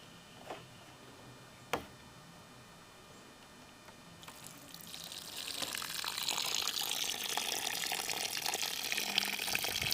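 Water from a tank trickles through a leak-repair sticker, starting as faint drips with a couple of sharp taps before swelling into a steady, louder hissing flow that continues alone to the end.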